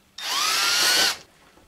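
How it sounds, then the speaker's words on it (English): A power drill bores a small hole, one close, loud, high whirring burst of about a second that starts abruptly and winds down as the bit stops. "So we'll take our drill,"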